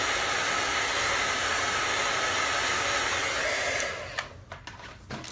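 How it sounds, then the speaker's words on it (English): A crafter's heat tool blows steadily and loudly while drying wet chalk paste on a nautical-themed Chalk Couture sign, then cuts off near the end, leaving a few soft clicks and handling noises. "if you're a crafter and you have a heat tool, which is what I'm using, go ahead and use that"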